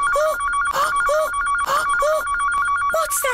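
A videophone rings like a telephone, a shrill electronic trill repeating in short even bursts about twice a second, loud and close, with no talk over it.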